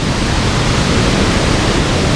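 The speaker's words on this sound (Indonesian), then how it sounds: "dari air terjun Tiu Pitu. Besar banget suaranya." The Tiu Pitu waterfall roars loudly and steadily, a dense wash of rushing water close by with no letup.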